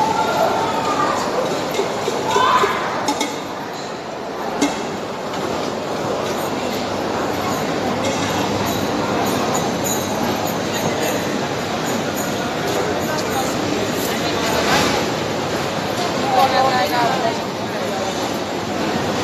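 Busy Indian railway station with a train present, a steady broad rumble of rail and crowd noise running throughout, mixed with voices and occasional sharp clanks.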